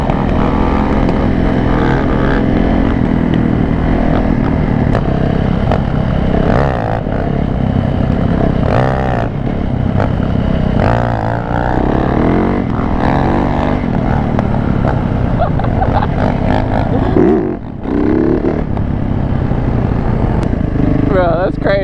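A dirt bike engine drones and revs loudly and continuously close by, its pitch rising and falling, with a brief dip near the end, while people talk over it throughout.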